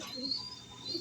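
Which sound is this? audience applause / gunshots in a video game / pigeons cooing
pigeons cooing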